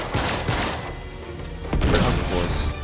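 Shotgun blasts in the video game Uncharted 3, two or three loud booming shots with a rough, crashing tail, spaced about a second apart and close up.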